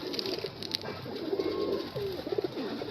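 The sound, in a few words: Kagoji pigeon cooing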